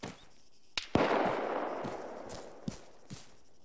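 Gunfire in the video game ARMA 3: a few sharp, separate shots crack out, each trailing into a rolling echo, fairly loud against an otherwise quiet backdrop.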